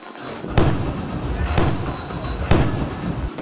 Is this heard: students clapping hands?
no